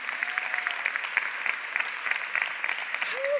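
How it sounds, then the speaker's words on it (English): Audience applause for a speaker at a business talk: a steady patter of many hands clapping, moderately distant and fairly soft, holding throughout. "Let's give a round of applause for Sid."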